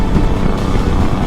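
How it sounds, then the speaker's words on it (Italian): A tractor engine runs steadily nearby with a continuous low rumble and no breaks, heard alone without voices, somewhere along a rural road in South America. "Sentite il rumore del motore?"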